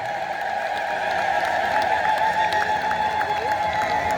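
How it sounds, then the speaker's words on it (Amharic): A crowd at an Ethiopian Orthodox church gathering clapping in a steady, rhythmic beat under a continuous, loud, trilling communal tone. "ጭብጨባ ያስፈልጋል።"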